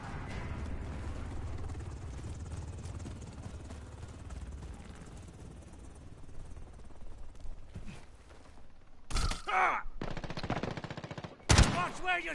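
Gunfire in a video game cyber attack mode: sustained machine-gun fire rattles under a rotor-like drone, then a few sharp, loud bursts of shots stand out near the end, with voices in the background.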